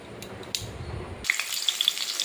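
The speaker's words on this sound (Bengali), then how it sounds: "পেঁয়াজটা ভাজা ভাজা করে নেব" Onion dropped into hot oil in a heated kadai breaks into a sudden broadband sizzle partway through, after a few faint clinks, and then crackles steadily and loudly with no talking.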